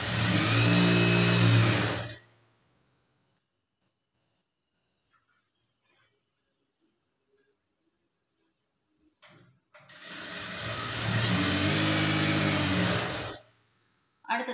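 Electric sewing machine stitching a half-inch seam on a blouse runs in two steady, whirring bursts with a quiet pause between, close and loud.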